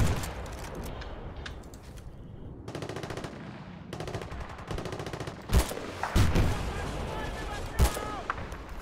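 Gunfire from the video game Battlefield Bad Company 2 comes as rapid automatic bursts and sharper single shots, loud and close, with some stretches of continuous fire.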